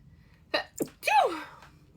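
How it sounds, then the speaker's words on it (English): A single sharp sneeze nearby, preceded by a short sharp intake of breath, in an otherwise quiet room. "when I sneeze during a reading"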